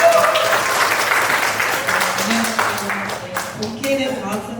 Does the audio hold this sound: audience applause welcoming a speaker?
yes